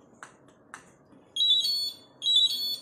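Toilet emergency pull-cord alarm from a SCHUTZ system, sounding as a piercing electronic beeping tone in two repeated bursts after two faint clicks, loud in a quiet room.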